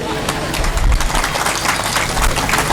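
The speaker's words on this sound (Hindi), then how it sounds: "फुग्गा ताली बजा रहा है" Clapping rings out during a religious discourse, rapid dense applause-like claps heard close amid a crowd, with talk in the room.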